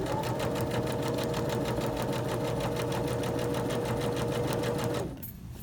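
A sewing machine stitches tote bag fabric with a fast, even, rhythmic whir for about five seconds, close and loud, then stops abruptly, leaving quiet room tone.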